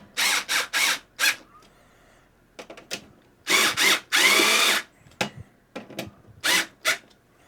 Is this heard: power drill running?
yes